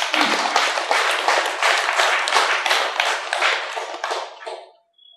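At an Ugadi New Year festival celebration, an audience breaks into loud, dense applause with many hands clapping together for about four and a half seconds before it stops abruptly.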